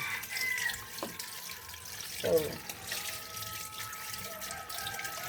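Vegetables rinsed under running tap water in a sink: a steady, fairly faint splashing stream with brief clatter, while a person talks over it.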